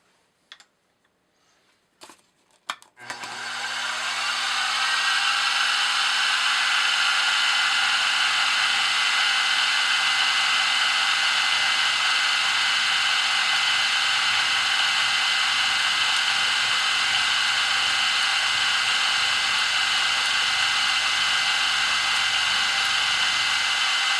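A modified center drill takes a shallow cut on a milling machine. A few faint clicks come first, then a loud, steady, high whine with a constant tonal hum starts abruptly and holds unbroken, with no voices.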